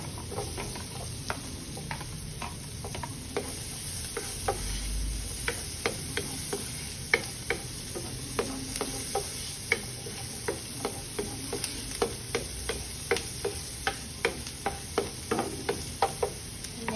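Onions sizzle and fry in a pan for a crab stick casserole, a constant close sizzle punctuated by steady, evenly spaced taps and scrapes of a utensil stirring, no talking.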